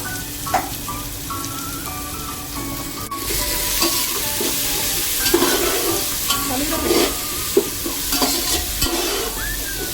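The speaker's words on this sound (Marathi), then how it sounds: "हे सर्व वाटण ह्याच्यामध्ये आपण परतवून घेणार आहोत कांद्यानंतर" Fresh paste of coconut, ginger, garlic, green chili, coriander and mint fries in hot oil with onions for prawn biryani. A loud, steady sizzle runs throughout, with repeated scraping stirs close by.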